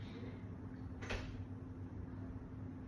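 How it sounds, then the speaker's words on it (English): A door closing indoors, a single soft thud with a brief rattle about a second in, heard faintly over low room hum with no voices. "Ava, close the door."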